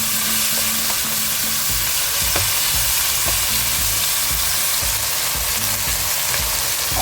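Chicken pieces fry loudly in a pan as they are stirred, a dense steady sizzle broken by scraping stir strokes, with no voices.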